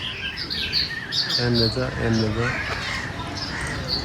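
Birds chirp in short high tweets throughout at a zoo, while a voice briefly speaks or hums in the middle.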